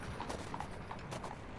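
Horse hooves clip-clop steadily on a street as a sound effect beneath a Victorian-era scene of horses and carriages, an even trotting rhythm at moderate distance.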